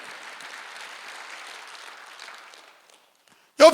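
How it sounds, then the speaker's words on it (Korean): A church congregation at Sunday worship gives a round of applause, a soft, diffuse patter that fades away to silence before a loud burst cuts in at the very end. "박수."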